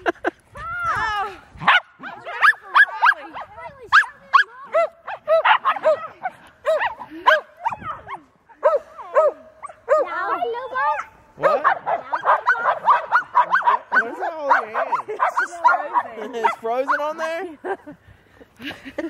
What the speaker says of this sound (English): He's out there barking too.